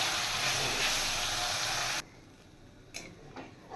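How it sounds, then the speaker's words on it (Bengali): Water poured into hot oil and spices in a pan for a vegetarian spiny gourd (kakrol) dish sizzles loudly and steadily as a broad hiss, then cuts off abruptly, leaving faint kitchen clatter. "আর একটু জল দিতে হবে"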